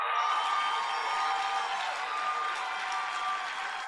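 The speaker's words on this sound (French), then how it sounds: "Continuez d'applaudir." A church congregation applauds as pastors are welcomed at a service in Orlando, giving a dense, sustained wall of clapping and crowd noise that holds steady, then eases slightly at the end.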